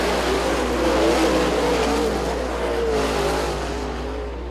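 Dirt track race cars racing side by side down the back stretch late in a heat race, a dense continuous engine roar with shifting revving tones, loud and steady without talk.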